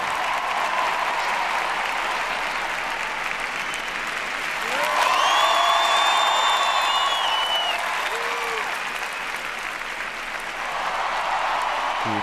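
A Spanish crowd of 15,000 applauds French ice dancers Gabriella Papadakis and Guillaume Cizeron at a 2018 Revolution On Ice show, a dense, sustained roar of clapping swelling midway, with faint high whistling tones drifting above it.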